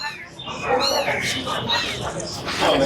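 Cats at a crowded cat market in Mirpur, with bird sellers nearby, give overlapping mews and cries against constant close chatter and market bustle.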